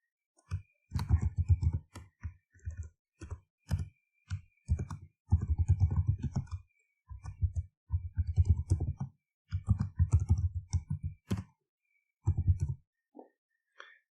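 Text is typed on a computer keyboard, with irregular bursts of dull, close clicking keystrokes separated by short pauses, fairly quiet and heard alone.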